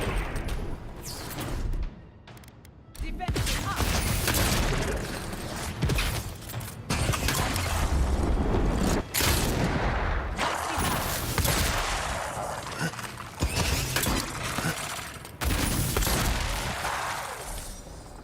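Gunfire in the fantasy action game Avowed: rapid bursts and volleys of shots with mechanical clicks and impacts, loud and repeated across the fight, separated by a few brief pauses.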